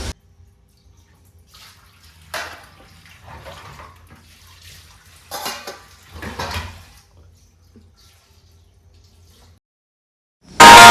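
Dishes and utensils being washed at home: intermittent splashes and rinsing water come in short, soft bursts with quiet gaps, followed by a sudden loud rush of water at the very end.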